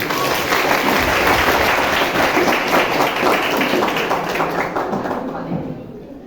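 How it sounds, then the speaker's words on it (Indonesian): A school audience of students applauds during a police officer's talk, loud, dense clapping from many hands that holds steady and then tapers off near the end. "Tepuk tangan kita semua"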